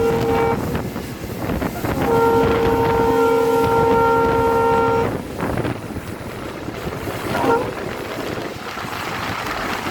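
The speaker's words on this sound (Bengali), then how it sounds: "বাড়িঘরের উপর দিয়ে যেন ট্রেন চলছে" Inside a passenger train travelling from Khulna to Jessore through countryside in Bangladesh: a steady rumble with wind buffeting, while a horn sounds in a brief blast and then a longer sustained toot before the running noise carries on alone.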